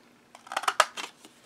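A 1.5 inch circle punch cuts a half notch into a paper scrap, giving one brief, close crunching snip with a few small clicks around it.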